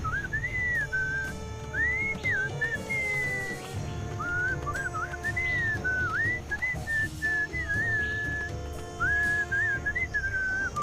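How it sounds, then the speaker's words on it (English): Melodic whistling in the Sam & Max Beyond Time and Space Remastered adventure game, a continuous wandering tune of bright sliding notes over a steady musical background, clear and upfront throughout. "What is that enchanting whistling sound?"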